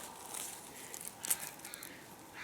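Faint, distant bird squawks, a few scattered harsh calls against a quiet outdoor background.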